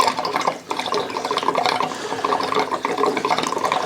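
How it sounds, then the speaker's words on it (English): Diesel fuel pours from a container into the tank of a forced-air kerosene heater, a continuous close gurgling, splashing stream that runs steadily with a brief dip early on, no voices. "Like I said, I'll put about a gallon in here, maybe a gallon and a half"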